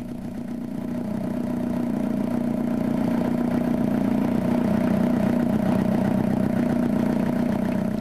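Car engine running steadily while TecFlow Engine Cleaner is injected in short bursts, a continuous mid-pitched hum with light clatter holding fairly even throughout.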